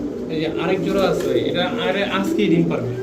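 Raj Golla pigeons in red and sky-blue pairs coo in low rolling phrases close by, partly under a man's speech.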